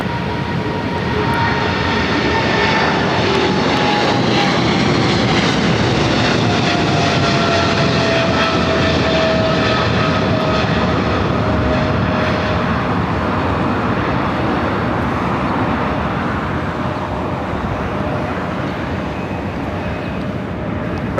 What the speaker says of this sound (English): United Airlines Flight 1718 heading to Condor on the 737 MAX 9